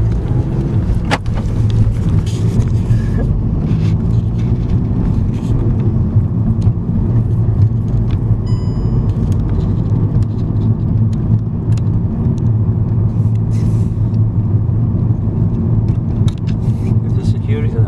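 A car rolls along steadily at a former factory site, its engine and tyre rumble continuous and close from the inside, with a voice speaking briefly over the drone.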